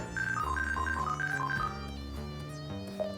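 A phone call to a church in The Textorcist rings out as a melodic electronic ringtone, a quick repeating run of bright tones over a steady low chord, fading after a few seconds.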